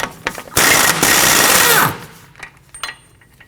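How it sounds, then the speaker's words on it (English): An impact wrench spins off the axle nut of a 2015-2024 Ford Edge 2.0L with a 32mm socket, giving a loud close rattling burst of just over a second that winds down, followed by faint clinks. "We can remove the axle nut with a"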